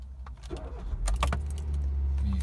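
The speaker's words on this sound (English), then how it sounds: "Start the car. It starts on the button," A Hyundai i10 1.2 hatchback starts by push button: a short rattle and click, then the engine catches and settles into a steady low idle close by.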